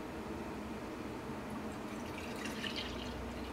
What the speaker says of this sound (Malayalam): ഇനി പാല് തിളപ്പിച്ചെടുക്കാൻ വേണ്ടിയിട്ട് പാത്രത്തിലേക്ക് പാല് ചേർക്കാം